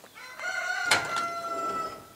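A rooster crows once, close and clear, a single drawn-out call over steady outdoor background noise.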